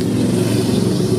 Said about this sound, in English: just the way how cleanly it revs